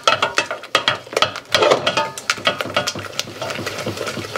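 A spoon or whisk scrapes and taps around a pan while stock is stirred into a roux for velouté sauce, a busy, steady rhythm of close, clattering strokes with no voices.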